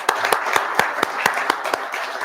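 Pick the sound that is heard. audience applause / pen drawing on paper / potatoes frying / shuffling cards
audience applause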